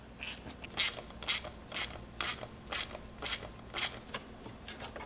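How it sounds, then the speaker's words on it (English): T-bar clamps on a Cadillac ATS-V turbo intake are tightened with an 11 mm ratchet, giving a series of quick rhythmic clicking strokes, close and fairly quiet, repeated about ten times with short pauses. "Go ahead and tighten up your T-bar clamps right here. They're an 11 millimeter on both sides."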